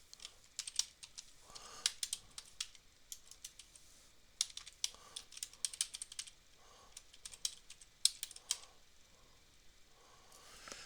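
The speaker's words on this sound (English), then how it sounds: "type out Shakey's Pizza Parlor, comma, North Hollywood." Fingers type on a computer keyboard in uneven bursts of quick, light clicks, pausing briefly between runs of keystrokes, close and fairly quiet with no voices.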